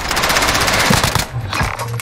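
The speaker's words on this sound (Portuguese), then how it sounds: "Atirando em mim!" Rapid automatic gunfire in a Call of Duty Warzone match, a loud sustained burst of close shots with dense rattling and no talk over it.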